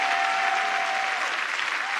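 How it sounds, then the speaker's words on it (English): A church congregation at a revival night claps loudly and steadily in a dense, continuous burst of applause with a faint tone underneath. "Come on, let's clap our hands for Jesus and just thank him for his faithfulness"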